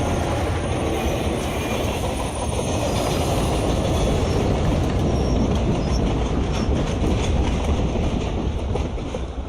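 A train on a railway line rumbling continuously and fairly loud, a broad steady roar of wheels and carriages that holds throughout with slight rises, no voices.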